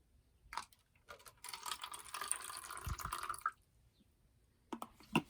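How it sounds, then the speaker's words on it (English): Water poured into a container, submerging a piece of metal for identification in a lab, a faint trickle and splash lasting about two seconds with a few small drips and taps before and after in an otherwise quiet room. "we place some water into this container"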